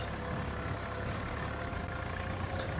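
A tractor in Farming Simulator 25 idles with a continuous, even low engine drone, dense and unchanging from start to finish.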